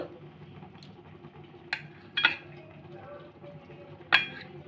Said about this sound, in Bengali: এইভাবে কেটে নেবো চৌকো চৌকো করে পনিরগুলোকে আমি সব কেটে নেবো